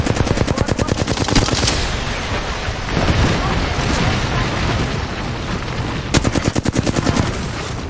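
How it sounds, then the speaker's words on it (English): Rapid automatic gunfire from a squad in a shooter video game, loud bursts of tightly spaced shots at the start and again near the end, with rumbling blasts and battle noise filling the stretch between. "Squad shooting from behind now."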